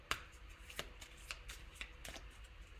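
Tarot cards being shuffled by hand, a soft papery riffle with several crisp snaps of cards slapping together at irregular intervals, quiet and close with no talking.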